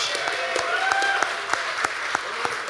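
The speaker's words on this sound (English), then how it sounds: "Could you give your applause for Stephen for joining us on stage?" Audience at an awards event applauds a guest joining the stage, steady crowd clapping with a few sharper individual claps standing out, fairly close and continuous.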